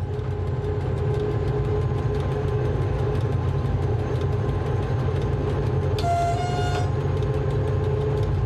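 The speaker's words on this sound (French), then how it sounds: "notre mécano va résolument tirer sur sa machine" An ONCF CC 72000 diesel locomotive pulls hard, its engine a heavy, steady drone with rhythmic rail clatter, heard close from on board, and a short horn-like tone cuts in briefly.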